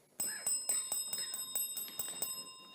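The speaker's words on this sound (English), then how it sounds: "that sounds like the final bell" A rapid electric bell rings out to end a high school quiz match, about ten sharp strikes in a steady quick rhythm, loud and close with a long ringing tail.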